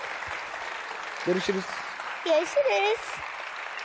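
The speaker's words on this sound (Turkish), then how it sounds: "Alkışlarla Damla'yı." Studio audience applause sends off a contestant on the Turkish game show Altın Petek. A soft, steady patter of clapping continues beneath a host who speaks briefly over it.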